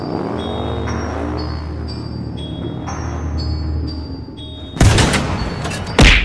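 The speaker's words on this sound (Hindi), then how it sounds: "टैंक की गोली सीधा मिस्टर मीट पे जाकर लगती है" A cartoon tank in a Mr Meat horror episode fires with two loud, abrupt booming blasts near the end, following a stretch of electronic tones and a low droning hum.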